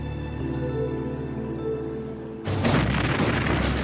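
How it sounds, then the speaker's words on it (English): Cannon fire at the Battle of Lepanto, a naval battle between oared galleys, breaks in as a sudden deep, rolling boom over a steady droning background and keeps rumbling loudly to the end. "The battle began amidst a blaze of cannon fire."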